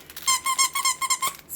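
A squeaky dog toy duck with crinkly material being squeezed, giving a quick series of about eight sharp, close, rhythmic squeaks over under two seconds.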